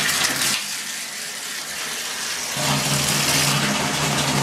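Water runs steadily from a tap into a bathtub being filled to bathe a kitten, a loud continuous gush that drops away briefly and then surges back fuller and deeper.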